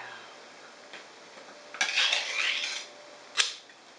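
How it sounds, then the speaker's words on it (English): A knife slices through a block of Spam, giving short scraping, clinking strokes: a longer burst of cutting followed by one sharp stroke near the end, close by and otherwise quiet. "we're going to start by slicing up the Spam"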